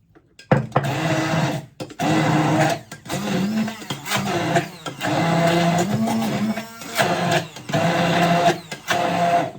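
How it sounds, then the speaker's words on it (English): An immersion blender purees tuna and capers in a kitchen, a close, loud whirring motor running in repeated bursts with brief pauses and pitch shifts as it works through the mixture. "back with my immersion blender. It's nice to not have cleaned so many things. I'm just going to puree this."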